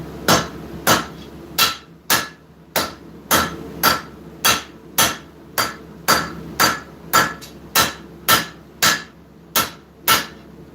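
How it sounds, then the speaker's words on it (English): A 5-pound rounding hammer strikes hot steel on an anvil while a knife is forged, about sixteen sharp, ringing blows at an even, steady rhythm, close and loud with nothing else heard. "5-pound rounding hammer."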